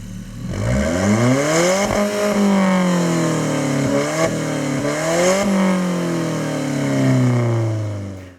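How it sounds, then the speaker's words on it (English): A 2016 Alfa Romeo 4C Spider's 1.75-liter four-cylinder exhaust, with no muffler or resonator, revs up and drops back several times, loud and close, with rising and falling engine tone and no voices. "All you're hearing is pure, unadulterated 1 3/4 liter 4-cylinder sound."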